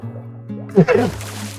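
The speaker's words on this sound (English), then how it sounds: "I only fill my buckets at least 10 feet down." Water being scooped into a bucket in a video game: a short, close liquid splash and slosh with a bubbly fill, over a low steady background hum.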